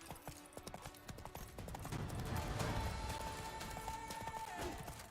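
Horse hooves clip-clopping in The Witcher 3: Wild Hunt on PS5, a quick, steady rhythm of galloping hoofbeats that continues under game music and ambience.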